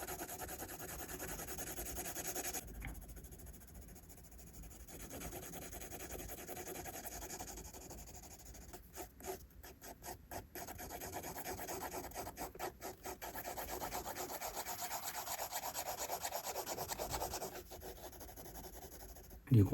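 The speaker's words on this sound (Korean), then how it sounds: "이 머리카락 부분 한번 전체적으로 연하게 쉐딩을 해줍니다" A pencil lightly shades hair across a paper portrait drawing, giving a close, continuous scratchy rasp with bursts of quicker strokes and short breaks, with no talking.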